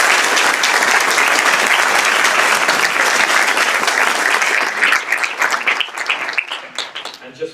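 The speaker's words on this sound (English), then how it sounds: "another round of applause" A graduation audience gives a long, dense round of applause for the faculty, steady and loud before thinning into scattered claps at the end.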